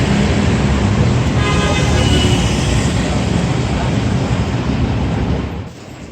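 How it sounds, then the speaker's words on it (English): Dense rush-hour road traffic in Manila roars steadily and close, with car horns honking in short bursts over the engine rumble before the noise eases slightly at the end. "rush hour. A lot of cars. Everybody honks here."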